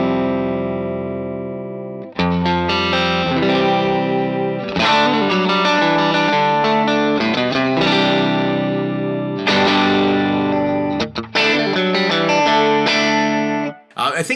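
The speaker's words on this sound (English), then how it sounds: "So let's get the character of a vintage preamp." Music processed through a BA-31 vintage preamp emulation on an Antelope Synergy Core, modelled on an old RCA preamp; a sustained, dense, harmonically rich passage that plays loud and continuous, briefly cutting out near the start and end.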